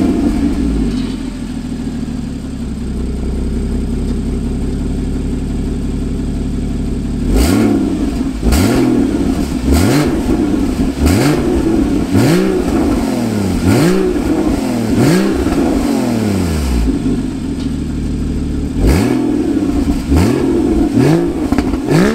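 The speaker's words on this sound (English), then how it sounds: "the PSE, which is the performance port exhaust from Porsche, from factory. So let me show you how this exhaust sound." A 2014 Porsche Cayman S (981) with the factory performance exhaust idles steadily, then rises into a series of sharp, loud revs, about a dozen quick blips in bursts, close and alone.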